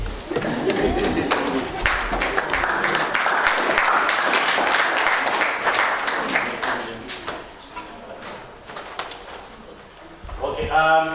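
Audience applause at a university nutrition academic evening, a sustained burst of many hands clapping that fades after about seven seconds, with voices talking faintly afterward.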